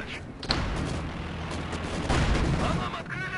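Tank cannon fire in Company of Heroes 2, a heavy boom with rumbling explosion tails and battle noise, one sharp loud report early then continuing blasts and distant gunfire.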